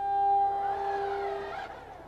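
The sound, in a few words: motorhome slide-out motor syncing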